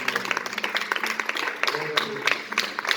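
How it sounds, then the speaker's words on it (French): A church congregation applauds the Lord during a French and Portuguese worship service, with a steady patter of many hands clapping at moderate loudness and voices mixed in underneath. "Si tu veux, tu peux applaudisser le Seigneur"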